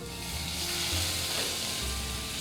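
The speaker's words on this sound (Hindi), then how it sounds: "1 से 2 मिनट के लिए हम इसे लो फ्लेम पर सौटे करेंगे।" Chopped ginger and garlic sizzling steadily in hot oil in a pan over a low flame, a continuous close frying hiss with soft stirring, no voices.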